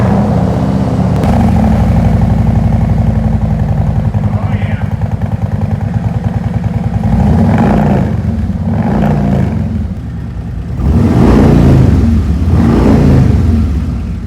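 A 2023 Harley-Davidson Road Glide fitted with a Khrome Werks exhaust starts up and settles into a deep, loud, lumpy idle, then revs in a few swelling blips, close by with no talking.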